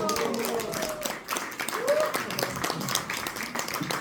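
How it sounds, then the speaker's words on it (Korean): An audience claps in warm applause to welcome a lecturer at a special lecture, a steady patter of hands running throughout with a voice talking over it. "뜨거운 박수 맞아주십시오."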